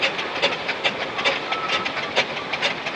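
A steam engine runs at the Boconnoc steam fair in 2012, giving a steady, rhythmic chuff with a hissing wash of steam, fairly close and continuous, with no voices.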